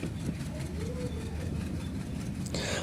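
A passenger train pulling out of Nimtola station on the line toward Dhaka, a low steady rumble of engine and wagons with a brief rising tone near the middle and a sharp hiss of air near the end.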